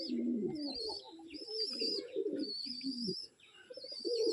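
Pigeons in a loft coo and chirp almost without pause, several birds at once, close and clear, with soft rustling between calls after a morning of rain.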